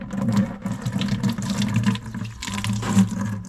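Water is poured steadily into a container for rock polishing, giving a continuous close splashing and trickling sound with no talk.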